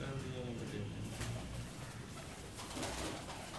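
Sialkoti pigeon cooing in low, soft repeated calls, mixed with background noise and a voice talking nearby.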